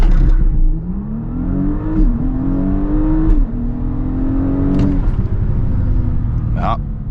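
Audi S5 Avant (2026 update) in Dynamic+ mode launching 0-100 km/h on a wet uphill road, engine note climbing loud and close through several gear shifts, heard from inside the cabin with talking throughout.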